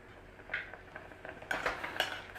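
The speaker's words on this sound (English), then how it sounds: "So just give your peas a little stir through." Peas get a few stirs in a pan, a utensil tapping and clinking against the metal in short, light strokes that grow a little busier toward the end. Quiet and close, with no voice.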